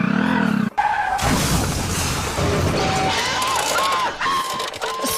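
A motorbike skids with a long scraping, screeching slide and clatters as it goes down, the noisy skid filling most of the moment before it settles, with faint voices around it.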